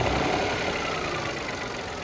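A car engine with a suspected clogged radiator idles close and loud in a steady, even drone throughout, with no talking.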